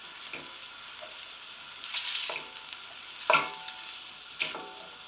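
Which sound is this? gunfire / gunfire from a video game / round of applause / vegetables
vegetables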